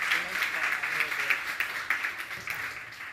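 Attendees at a tech diversity and inclusion event give a group a round of applause, moderate and steady clapping with some voices mixed in underneath.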